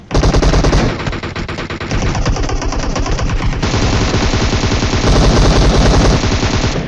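Sustained, loud bursts of automatic gunfire in a video game, rapid machine-gun volleys firing almost continuously for several seconds with no pause.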